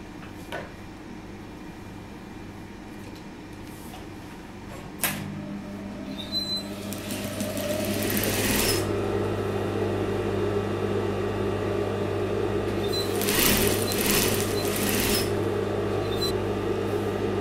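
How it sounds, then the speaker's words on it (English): A sewing machine joins the shoulder seams of a color block dress, starting with a click and rising into a steady whirring hum with faint clicks, no voices. "So now I'm going to join the shoulders for the front and the back neckline."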